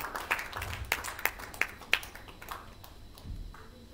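Scattered applause at an MOU signing ceremony for a strata property system launch: a few sharp, separate claps in a quiet room, fading after about two seconds.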